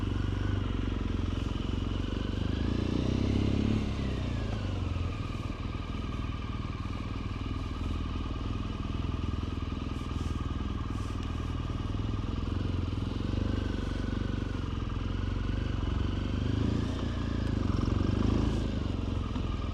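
A large motorcycle engine idles and rumbles steadily up close, its low growl shifting slightly as the bike maneuvers, with faint voices in the background.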